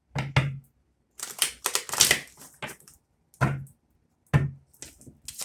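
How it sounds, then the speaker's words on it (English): Tarot cards being shuffled in a handful of quick riffling bursts, close and crisp, separated by short silent pauses. "One more shuffle."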